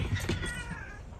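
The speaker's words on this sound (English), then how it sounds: "Oh, the big cat just tried to beat up the dog." Large cat giving a single drawn-out, whiny meow, close and moderately quiet, with no talking.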